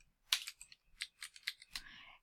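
Keys on a computer keyboard are tapped in a quick, irregular burst of crisp clicks, close and fairly quiet, with no voice over them.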